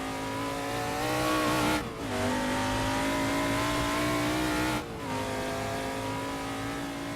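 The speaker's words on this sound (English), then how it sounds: "Get on the gas as early as you possibly can and guide the car over to the left of the circuit" A race car in a racing sim on the Bridgehampton circuit mod accelerates hard, its engine rising in pitch, dropping briefly at two quick gear changes, then climbing again, loud and close.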